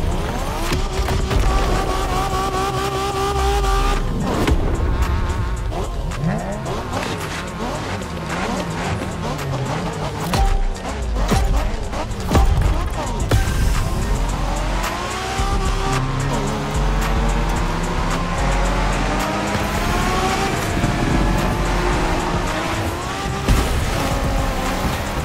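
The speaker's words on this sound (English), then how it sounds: "We're going for some proper Japanese street racing." Cars in a Japanese street race in The Crew Motorfest roar and rev with rising and falling engine pitch and brief tyre squeals, loud and continuous throughout.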